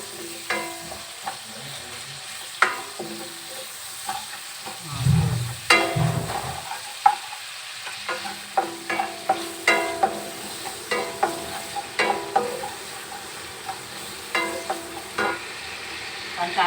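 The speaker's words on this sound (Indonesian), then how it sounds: "Bawang goreng kita tumis dengan minyak yang sama." Fried shallots sautéed in oil in a pan, a steady soft sizzle with frequent scraping stirs and clinks from a utensil, fairly quiet throughout.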